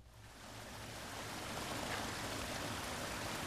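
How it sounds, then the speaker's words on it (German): Water pouring steadily into a tank in the video game Resident Evil Zero, a broad rushing hiss that swells slightly and then holds at an even, moderately loud level with no talk over it. "jetzt füllen wir den Scheiß hier mit Wasser"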